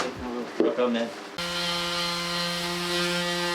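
A power sander starts up and runs with a steady high whine and hum, close by inside a boat, sanding wood, after some brief clattering.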